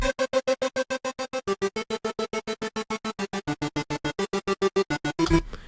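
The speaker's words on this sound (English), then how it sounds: "So I layered it with a super saw." A Serum 2 synth preset layered with a 60-voice super saw plays a rapid, evenly pulsed chord pattern of short staccato stabs, bright and close, with no talking.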